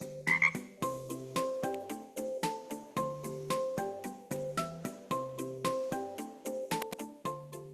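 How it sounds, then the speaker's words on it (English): Frogs croak loudly and close by in a steady, overlapping chorus of throaty, pulsing calls that repeat throughout with no voices. "For example, frogs."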